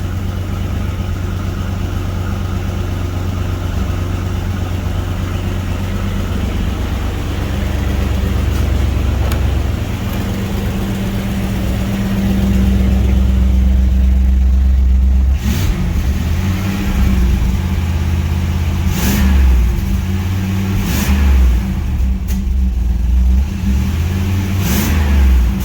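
A 1992 Pontiac Trans Am engine idles with a deep, steady rumble, then revs up in several sharp blips, loud and close, with the exhaust barking between rises.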